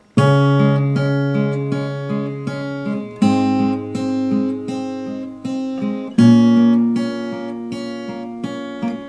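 Guitar strums the chord pattern of a song at full tempo, three bright chord changes each followed by rhythmic down-up strums, close and clear with no talking.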